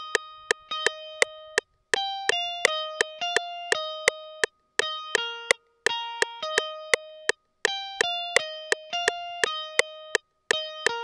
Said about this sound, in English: I came up with this very simple counter melody which sounds like this